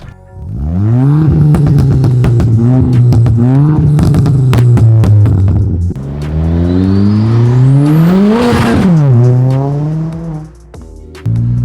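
A 340+ bhp stage 3 Ford Fiesta ST hot hatch accelerates hard through the gears, its loud engine note rising and falling between shifts while the turbo audibly spools and whistles up, heard from inside the car with no talking.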